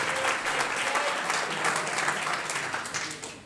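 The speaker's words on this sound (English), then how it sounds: "Massive round of applause." Sustained audience applause at a cycling club awards night, dense clapping from a large indoor crowd that holds steady and then begins to fade.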